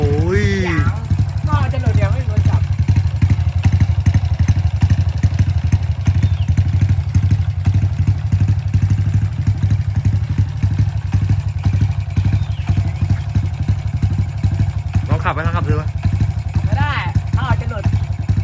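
A Honda Wave 110 motorcycle engine idles with a steady, rapid low thumping throughout, close up, while people talk over it now and then.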